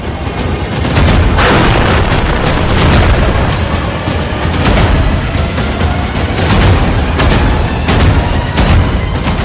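Heavy booming and crackling roars from an attack on a building in Russia's Saratov region, loud and continuous with a dense rumble and sharp bursts throughout.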